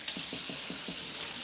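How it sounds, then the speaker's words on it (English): Tap water runs into a sink while juicer parts are rinsed, a steady hiss with a few soft rhythmic splashes, close and moderately quiet, with no talking. "I'm literally just rinsing out."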